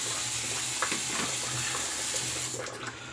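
Warm water runs steadily from a tap to wet a silver tip fiber shaving brush, a close, continuous splashing rush that tapers off at the end.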